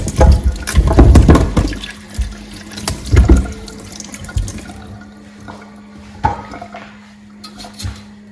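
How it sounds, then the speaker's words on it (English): Ghanaian plantain meant for ampesi is washed under running water, splashing loudly at first with clattering handling in a sink, then tapering to quieter intermittent trickles and knocks. "I'll go ahead and wash my plantain."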